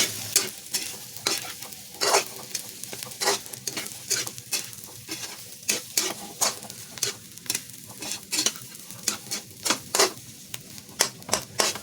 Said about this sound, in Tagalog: Ibuhos na natin. Haluin natin mga friends.